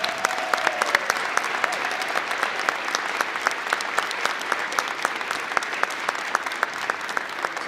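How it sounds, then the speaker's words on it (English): A large crowd at a high school pep rally claps steadily and loudly throughout, a dense continuous patter of many hands with no pauses. "I can't do this without giving a huge round of applause to Terry"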